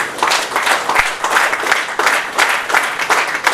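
An audience at a film felicitation event in a hotel applauds as the director walks to the dais, dense sustained clapping, loud and close, swelling in waves without a break.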